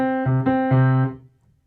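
Piano sounds a few sustained notes on two C's, the hands playing triplets against eighth notes, clear and close, ringing briefly before decaying to silence, with no talk.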